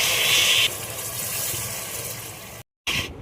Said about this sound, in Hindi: ख़ीमे को अच्छे से भुनने के बाद पानी डालना